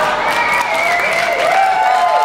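Comedy club audience applauding during a stand-up special, a steady dense wash of clapping with some crowd noise, loud and close throughout.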